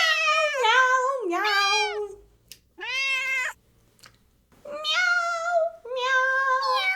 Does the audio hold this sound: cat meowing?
yes